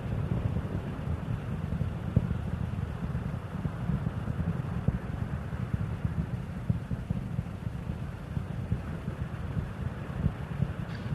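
Space Shuttle Endeavour's ascent on mission STS-111 comes through as a steady, distant low rumble with wind-like noise, continuous and fairly faint throughout around solid rocket booster separation.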